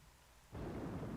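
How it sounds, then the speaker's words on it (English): Quiet hiss that suddenly swells into a loud rumble of thunder over steady rainfall on the planet Tallon IV in the video game Metroid Prime, with no voices. "And it's all lovely and rainy, and there's storms."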